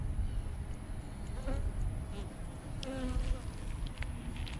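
Honey bees buzz steadily at close range around an open hive, a soft continuous drone with a few higher whines passing by, under low background rumble.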